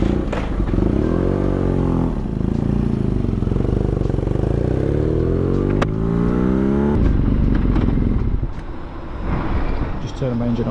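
A motorcycle engine runs on the road, a loud steady drone with sweeping pitch changes as the revs rise and fall, mixed with wind buffeting, easing off near the end.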